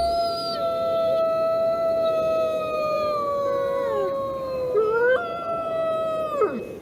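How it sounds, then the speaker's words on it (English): A grey wolf howls in long, sustained, wavering tones that slide and break in pitch, loud and clear with a few overlapping voices and no talk. "The howl of a grey wolf is not just an echoing sound, but a way for them to connect with each other across long distances."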